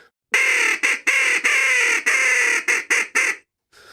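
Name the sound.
crow call imitation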